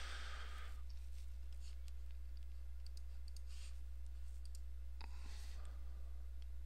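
Faint computer mouse clicks tap out a few times over a steady low electrical hum while a WordPress theme is being set up, with no talking.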